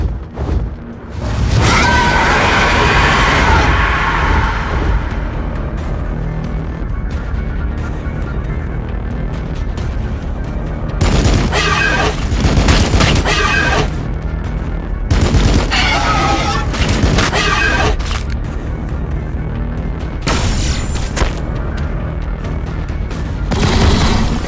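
Battle in Warhammer 40k: Battlesector with Blood Angels forces: loud bursts of rapid gunfire and booming explosions come in repeated volleys over a rumbling background, with brief shouted voice lines between.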